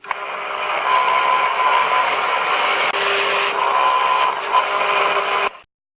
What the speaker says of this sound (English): I'm going to drill that first hole